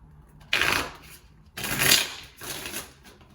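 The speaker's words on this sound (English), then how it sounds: "Now we are shuffling Tarot of the Orisha" Tarot cards (Tarot of the Orisha deck) are shuffled up close in three bursts of crisp, riffling flutter separated by short pauses.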